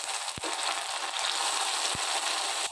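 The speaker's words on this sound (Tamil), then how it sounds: "வெங்காயம் பூண்டு இந்த அளவுக்கு வதங்கினோடனே தக்காளி சேர்த்துக்கலாம்." Tomatoes with shallots and garlic fry in a pan, a continuous loud hiss of sizzling oil with a couple of sharp thumps from a utensil, no talk.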